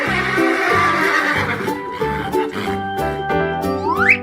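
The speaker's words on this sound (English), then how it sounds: "Zebra." A zebra calls in a 3D animal slide video game: a whinnying, neigh-like cry that ends in a sharp rising squeal, set against a dense, steady game soundtrack.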